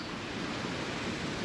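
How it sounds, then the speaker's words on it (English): The Guadalupe River, swollen after heavy rain, rushes with a steady broadband roar of fast-moving water, soft and continuous for a second and a half with no voices. "since there was some pretty heavy rain in the area over the last couple days, the river seems to be running pretty strong"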